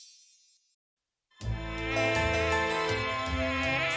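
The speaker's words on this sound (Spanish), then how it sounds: "Mosquitos volando van, por sangre hambrientos van." Cartoon mosquitoes buzzing in flight in a children's song: after a brief high whine and a moment of silence, a loud, steady buzzing swells in with bright musical accompaniment underneath.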